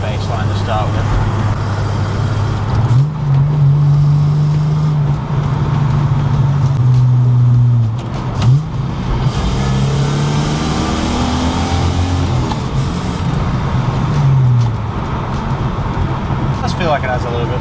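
A Holden VS Commodore drives on a road test, its engine droning steadily with rising and falling revs as it accelerates, heard from inside the cabin while someone talks over it.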